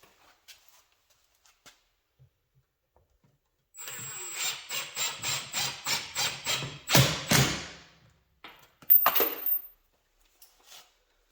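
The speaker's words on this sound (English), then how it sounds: "It's going to be cool getting all the silicone on a drill bit." A drill spins a silicone-coated bit in a burst of rhythmic, pulsing grinding that lasts about four seconds, followed by a short louder rattle, with quiet stretches before and after.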